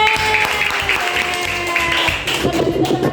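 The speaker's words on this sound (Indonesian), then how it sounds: "Kita beri tepuk tangan semuanya." Clapping from a classroom of children during a primary-school maths lesson, a steady patter of many hands lasting about three seconds, mixed with young voices chattering underneath.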